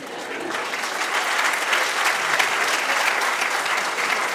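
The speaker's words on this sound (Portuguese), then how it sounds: "Quem gostar, pode bater palmas." Audience applause at a Carnival 2015 bailinho performance in Doze Ribeiras, a steady broadband clapping that swells after the first half-second and holds loud and dense to the end, with a hint of crowd noise.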